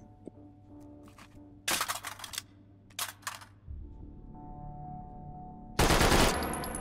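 Sten Mark V submachine gun fired in H3VR, heard as two short loud bursts of rapid shots, then a louder final burst after a stretch of quieter mechanical hum and game tones.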